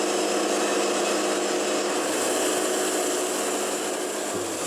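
A Woodmizer LT70 sawmill blade runs steadily through a pine log, a loud continuous whining buzz with a machine drone beneath it, the pitch dropping slightly near the end.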